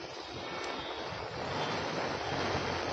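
Heavy downpour over the Chakli Circle area of Vadodara city, a dense, steady hiss of rain close by that holds at an even, loud level throughout, with no voices.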